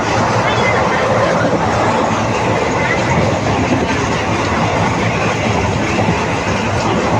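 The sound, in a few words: superfast express train picking up speed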